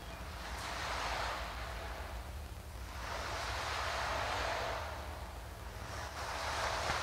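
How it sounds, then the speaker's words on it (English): A wave breaks on the seashore with a continuous hissing wash of surf that swells and fades in slow surges, heard alone. "The breaking wave on the seashore."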